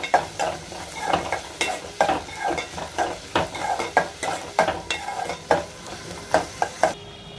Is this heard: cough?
no